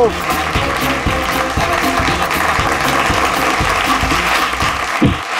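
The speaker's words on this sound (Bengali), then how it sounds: "জোরে হাততালি" A game show studio audience claps loudly and steadily for several seconds while a voice speaks over the applause.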